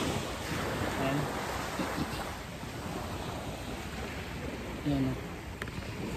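Waves wash onto the shore at Micro Beach, Saipan, under an overcast sky, giving a steady broad surf roar with wind buffeting the microphone while someone speaks briefly.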